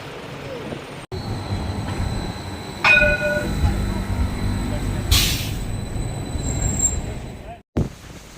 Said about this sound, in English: Well, that wasn't actually the right tram.